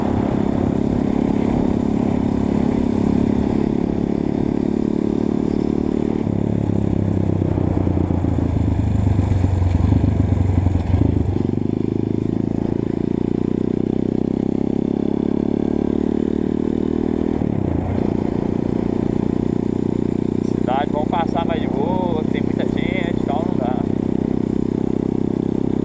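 A Honda CRF 230 motorcycle engine drones steadily at a constant pitch while riding in fifth gear, loud and close, with a brief clattering rattle near the end.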